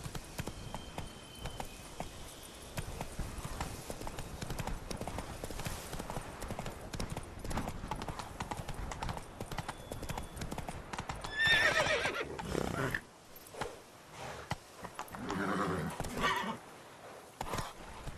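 A horse in The Witcher 3 game gallops with quick, steady hoofbeats, then gives a loud neigh partway through, followed by continued movement and game ambience.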